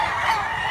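A young speckled stag rooster at an open-air chicken market in Mantalungon, Cebu, gives a brief, close, steady call.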